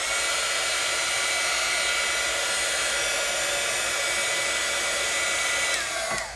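A heat tool dries Dreamweaver crackle paste, blowing with a loud, steady whirring hiss that runs unbroken and then cuts off at the very end.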